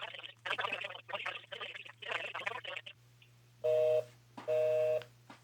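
A person speaks first, then a telephone line sounds with two long, loud electronic tones separated by a pause, heard on a call to a county tax office.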